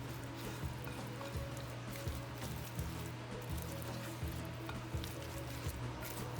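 Teriyaki chicken being mixed in a hot pan, flour stirred in, giving a steady mid-level sizzle with a low hum underneath and regular soft scraping strokes from the stirring.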